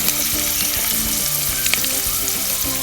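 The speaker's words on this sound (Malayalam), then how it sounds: "കുറച്ച് മുളക് പൊടി, കുറച്ച് മഞ്ഞൾപ്പൊടി ഇട്ട് നന്നായിട്ട് എണ്ണയ്ക്കകത്തുനിന്ന് പൊടികൾ മൂപ്പിക്കണം." Curry leaves and fenugreek powder frying in hot oil, a continuous bright sizzle with crackling pops and occasional stirring clicks, close and steady with no talk.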